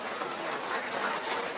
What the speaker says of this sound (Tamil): ஒரு நல்ல கைத்தட்டல உரிதாக்கலாமா எல்லாரும் சேர்ந்து?